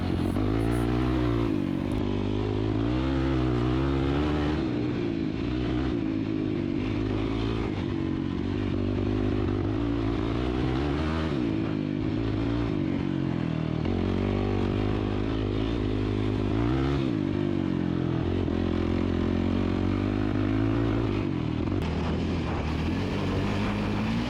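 Loud, continuous ATV engine revving and surging while riding a trail, with a first-generation Yamaha Raptor 700R and a YFZ 450R running, the note rising and falling steadily throughout with no talk.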